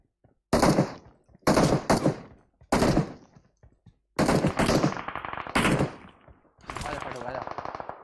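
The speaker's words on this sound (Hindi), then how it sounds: "अबे तुम पहले गोली चला दे" Rapid automatic gunfire bursts from the PUBG Mobile battle royale game, several loud clusters of shots separated by short gaps, with some game noise between them.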